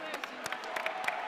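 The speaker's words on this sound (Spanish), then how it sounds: "Un fuerte aplauso para ellos." Brief crowd applause at a robotics competition award ceremony, quick irregular claps overlapping with murmuring voices, moderately distant.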